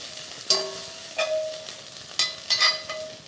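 Corned beef from a can being sautéed with onions and garlic in about a tablespoon of olive oil in a pan, heard as a few separate stirring scrapes and brief sizzling bursts over a quiet background.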